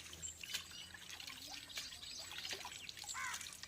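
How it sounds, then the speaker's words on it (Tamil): Holy water trickles and spatters as it is sprinkled during a Tamil prayer ritual to Agastya, with faint pouring and dripping sounds over a quiet background. "தீர்த்தத்தில் உங்களுக்காக நான் தெளிச்சுக்கிறேன்"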